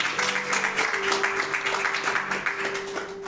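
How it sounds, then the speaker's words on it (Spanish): A church congregation applauds during a sermon, a dense, steady clatter of many hands lasting a few seconds, with a sustained keyboard tone held underneath. "Den un aplauso al Señor"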